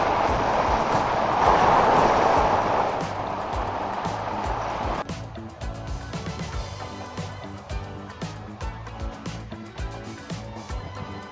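Intercity Ister train in Romania hauled by a Siemens Taurus locomotive, a steady rumbling run that starts with a louder rushing stretch, then settles into quieter, rhythmic rolling noise.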